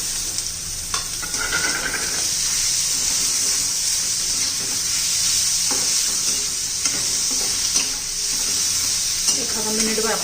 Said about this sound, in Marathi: एखादा मिनिटभर आपण टोमॅटोचा परतून घेऊया.